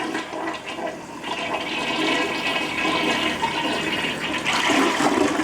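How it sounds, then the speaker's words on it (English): A toilet that was just cleared of a clog with a toilet snake is flushed, and water rushes and swirls steadily nearby before the sound builds to a stronger gurgling drain near the end. "So I'm going to flush the toilet."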